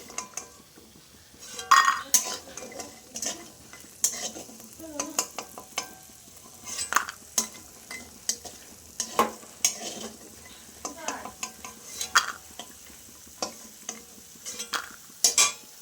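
Lentil dumplings (bori) fry in oil with a quiet sizzle beneath frequent sharp clinks and scrapes of a utensil against the pan, irregular and close.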